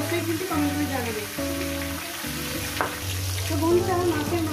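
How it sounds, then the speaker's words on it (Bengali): A catla fish head fries in hot oil, giving a steady, close sizzle that runs throughout beneath louder background music. "এবার এরকম মাছের মাথাটা আমি সুন্দর করে ভেজে নেব"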